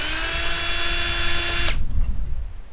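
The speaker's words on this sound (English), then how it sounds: "remove the two 10mm that hold the headlight on" Power tool backing out a 10mm bolt holding a 3rd-gen 4Runner headlight: a close, loud steady motor whine running nearly two seconds, then cutting off into rattling clatter and fading.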